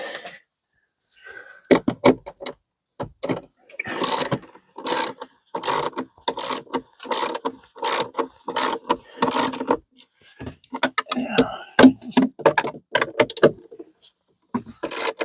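A ratchet cranks down the plastic battery clamp on a Mercedes-Benz Sprinter 3500 chassis, giving loud, close, sharp clicking strokes in repeated bursts separated by short pauses.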